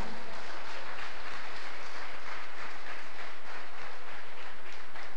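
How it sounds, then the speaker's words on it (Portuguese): A church congregation applauds during an evening service, a broad, steady wash of many hands clapping at once, filling the space evenly without a break. "Quem concorda, aplauda o Senhor nessa noite."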